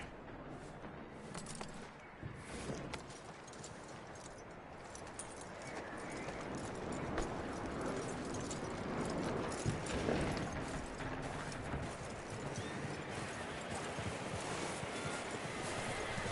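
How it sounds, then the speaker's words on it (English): In Red Dead Redemption 2, hooves clip-clop steadily at a moderate distance while a horse whinnies and snorts, set against a dense outdoor ambience without speech. "That looks like a decent horse"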